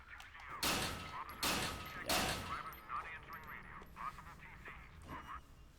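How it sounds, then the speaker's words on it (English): In the video game Silent Hill Downpour, a gun fires three loud shots in quick succession at a padlock, followed by lingering game ambience and faint chatter. "We're gonna shoot that padlock off."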